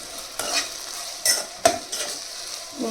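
A spoon stirs okra with salt, chili and turmeric in a frying pan, with sharp scraping strokes and clinks at irregular intervals over a soft background sizzle and no voices.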